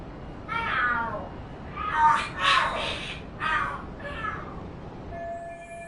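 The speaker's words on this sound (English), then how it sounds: "Are there cats fighting?" Cats fighting and screaming in the Lost Judgment video game, a few drawn-out yowling wails and screeches rising and falling in short bursts, moderately close with no talk.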